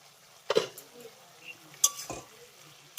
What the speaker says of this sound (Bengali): ঢাকাটাকে তুলে নিচ্ছি